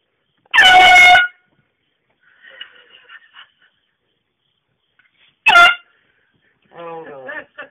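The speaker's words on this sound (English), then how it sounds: "air horn." Two loud, blaring air horn blasts, one short and sharp near the start and another a few seconds later, go off close by in a quiet bedroom, with a startled sleeper's groaning voice in between and afterward.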